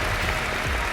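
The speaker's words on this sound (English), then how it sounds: "Please give a big round of applause for Maria Flynn, President and CEO of Jobs for the Future." Audience applause welcoming Maria Flynn, President and CEO of Jobs for the Future, onstage: a dense, steady wash of clapping from a large crowd, continuous and fairly loud throughout the brief moment.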